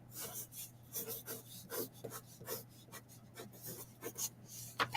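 Handwriting on paper, a soft close scratching and rubbing of the pen in short repeated strokes at an uneven rhythm, quiet and alone under a faint steady hum.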